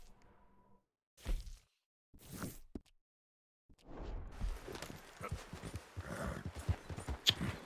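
Horse hooves clip-clopping in the video game Red Dead Redemption 2, short bursts of steps separated by silence, then a longer run of close, irregular hoofbeats with some rustle.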